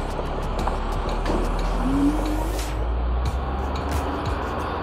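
Road traffic heard from a moving vehicle: a constant loud rumble of engines and tyres, with passing vehicles and a brief horn-like tone rising over the wash.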